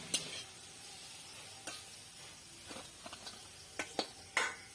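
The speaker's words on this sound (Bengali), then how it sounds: "আবারও একইভাবে আমি পরের ব্যাচের বড়াগুলো ভেজে নেব" Lentil fritters, pea-lentil batter with banana blossom, frying in oil in a wok, a faint quiet sizzle broken by scattered spatula taps and clinks near the end, no voices.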